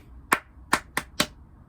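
A teacher claps a quick rhythm of four sharp hand claps, two spaced then two closer together, crisp and near, to quieten a class, with nothing else in the background.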